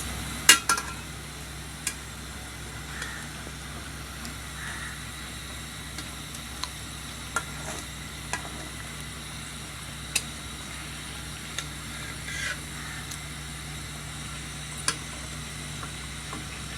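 Hilsa fish cooking in mustard sauce in a pan, with a steady soft sizzle and occasional light ticks and clinks of a utensil.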